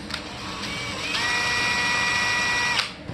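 A power drill whirs steadily up close, its motor pitch rising slightly as it bores holes in a model P-47 aircraft, then cuts off.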